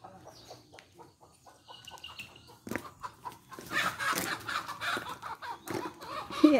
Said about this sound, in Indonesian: Ada ayam lagi kawin.